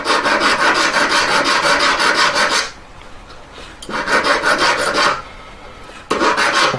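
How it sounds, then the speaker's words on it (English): A hand file rasps against a small metal oval claw collet in loud, rhythmic bursts of strokes, pausing twice before resuming, with no talking. "I just give it a little file, rotate it a bit, and you're filing it from all different angles then."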